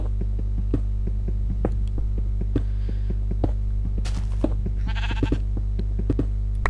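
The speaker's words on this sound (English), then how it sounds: "That's a normal sheep because it didn't like make that sort of robot sound that the others do." A sheep in the Minecraft video game bleats a couple of short times over a steady low electrical hum and faint clicks, with no talking.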